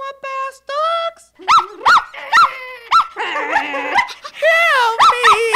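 Cartoon dogs in a Powerpuff Girls animatic let out a run of sharp high barks and yips mixed with whining whimpers, loud and close, each bark clipped and rhythmic over about five seconds.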